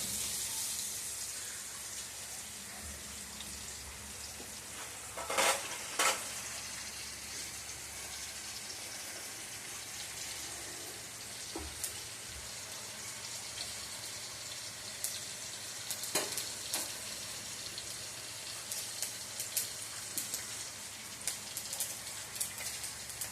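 Mustard seeds tempering in a little hot oil give a soft, steady crackling hiss, rain-like and fairly quiet, with scattered sharper pops and a few louder bursts, heard alone.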